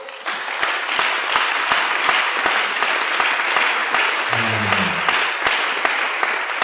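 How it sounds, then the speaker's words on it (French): A church congregation applauding the worship team: dense, steady clapping from a large crowd with a few brief whoops, continuous throughout. "Est-ce qu'on peut acclamer pour eux?"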